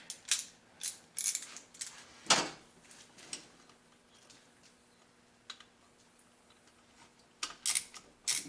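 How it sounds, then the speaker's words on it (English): Ratchet clicking while a bolt is tightened during an LS high flow electric water pump install, quick bursts of sharp clicks separated by pauses, close and fairly quiet with no talking. "I forget the ratchet for number 6 here."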